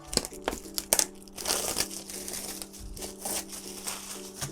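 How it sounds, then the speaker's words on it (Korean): Protective plastic film is peeled off an aluminum AL87B custom keyboard, giving close, crinkly crackling in uneven bursts with no talking. "일단은 위에 이런 비닐이 있는데 얘를 이렇게 잘 뜯어가지고"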